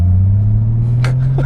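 Nissan R32 GT-R turbocharged engine held on the throttle, a loud, steady low-pitched drone throughout with brief higher hiss bursts near the end.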